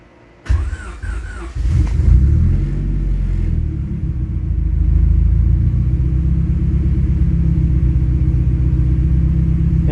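A Honda CRX engine cranks briefly and fires up, then settles into a steady, loud, low rumbling idle. The idle continues to the end without talk.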